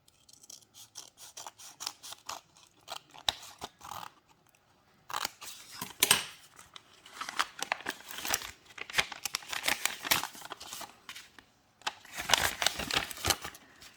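Scissors snipping and plastic packaging crinkling while a surprise birthday parcel of scratch cards is opened, a close, irregular run of crisp cuts and rustles with brief pauses and no talking.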